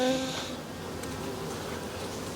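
Honey bees in an opened, overwintering hive in South Georgia buzz in a close, steady drone, with a louder whine at the start that settles into a constant hum.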